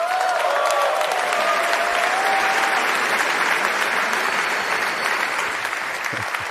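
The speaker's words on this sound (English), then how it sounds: "give a huge round of applause to Cameron Tyler Winklevoss" Sustained crowd applause at the Bitcoin Amsterdam 2025 conference as Cameron and Tyler Winklevoss are welcomed to the live desk, loud and even at first, easing slightly toward the end.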